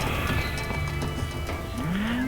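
Cattle moo in the video game Metal Gear Rising: Revengeance, a low drawn-out bellow rising near the end over ambient game background noise.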